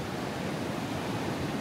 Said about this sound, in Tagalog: lakas din ng alon